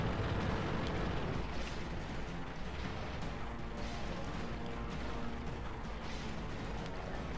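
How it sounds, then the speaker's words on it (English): Tank cannon fire and shell impacts in the World of Tanks video game, a Sherman Jumbo trading shots with a Jagdpanzer IV, a dense continuous barrage of booming blasts and crashes, loud and close. "We got a Jag Panzer IV spotted, putting shots into him. Bet he regrets show him himself. I'm taking fire, pulling back into cover."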